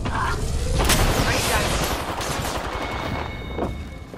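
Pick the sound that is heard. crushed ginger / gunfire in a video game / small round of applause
gunfire in a video game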